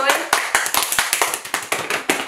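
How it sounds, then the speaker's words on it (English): Sharp hand claps repeat in an uneven rhythm, close and fairly loud, with short gaps between bursts and no steady beat. "do you wanna just keep clapping?"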